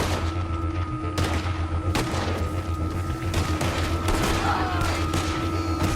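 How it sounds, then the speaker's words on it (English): A Red Dead Redemption 2 gunfight: rapid, close gunshots crack out in irregular bursts over a constant rumbling bed of noise, with several sharp loud reports standing out across the stretch. "Another gunfight, and cold."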